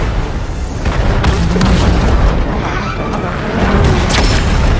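A bomb explosion in the video game Fortnite, heard as a loud, dense booming roar that fills the whole stretch, with rumbling bursts and no clear pauses.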